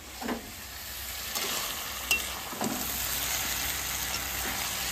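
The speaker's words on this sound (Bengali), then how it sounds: "এবার ভালো করে মাংসটাকে কষাই নেবো" Meat frying in a pan, a quiet steady sizzle broken by a few scraping stirs and clinks of the spatula, close by and without any talking.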